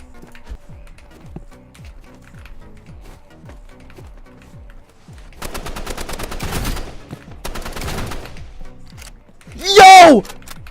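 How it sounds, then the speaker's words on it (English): Gunblade gunfire in a Roblox game: a steady run of light rhythmic ticks, then two short bursts of rapid automatic shots and a sharp louder blast near the end. "Oh, he's using Gunblade!"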